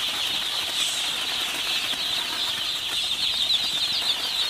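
Crowded ducklings in a farm brooder, huddled together to sleep, give a dense, continuous high-pitched peeping chorus that stays steady and fairly loud throughout, with no speech.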